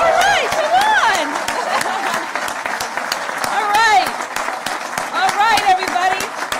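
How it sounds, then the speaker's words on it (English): Audience applause and clapping at a Massachusetts affordable housing award event, loud, steady and sustained throughout, with cheers and whoops rising over it. "All right, let's clap!"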